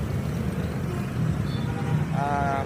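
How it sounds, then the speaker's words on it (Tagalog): Rush-hour traffic in Barangay Basak, Lapu-Lapu City, makes a dense low engine drone of cars and larger vehicles. A brief tonal horn-like sound rises near the end, and faint voices may sit under the traffic. "Grabe trapika mga brother."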